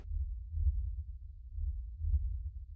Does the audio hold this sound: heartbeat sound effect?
yes